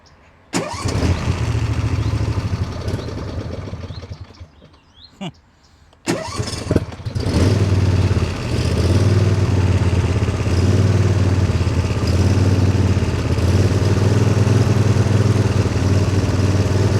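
A medium engine cranks and catches, cuts out briefly, then restarts and settles into a steady, loud idle with slight throttle changes, no talking over it.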